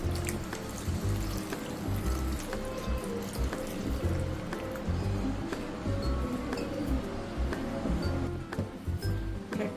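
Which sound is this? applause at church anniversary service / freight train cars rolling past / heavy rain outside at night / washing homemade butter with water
washing homemade butter with water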